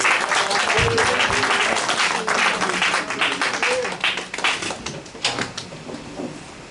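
A church congregation at a Sunday worship service applauds in a dense, steady wash that thins into scattered individual claps toward the end, with faint voices underneath.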